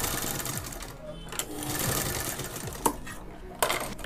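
A sewing machine stitches a cloth face mask at close range, a quiet, rapid mechanical whir with a few sharp clicks, while a voice speaks softly in the background.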